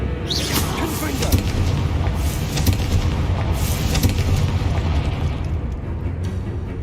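Confringo blasting spells explode in the video game Hogwarts Legacy. Dense, rumbling booms and bursts come one after another at close range, with a voice talking over them.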